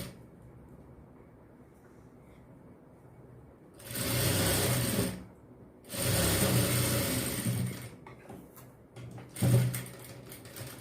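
Sewing machine stitching a fabric strip onto a blouse panel, running in three loud bursts of rapid mechanical whirring separated by short pauses, close and clear with quiet handling in between.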